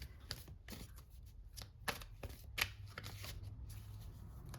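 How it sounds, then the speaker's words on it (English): Rapid riffling and soft slapping of tarot cards being shuffled, a series of crisp bursts close to the microphone, with no talking. "One more little good shuffle, perhaps."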